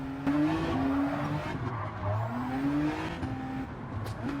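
Racing cars in the Gran Turismo 7 video game, engine tones rising and falling through a corner battle with an Alfa, layered with tire squeal and skidding, no voices heard.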